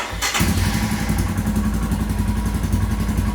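A Royal Enfield Himalayan motorcycle engine catches after a brief crank and settles into a loud, steady idle with a rapid rhythmic chug, started to check the cleaned exhaust for leaks.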